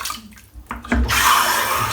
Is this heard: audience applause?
no